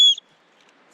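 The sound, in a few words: whistle blown, whistle with compass and thermometer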